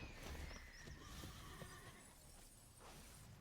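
A horse neighs from the Ostrich Horse creature card in the MTG Arena digital card game, a game sound effect over low background music with no talking.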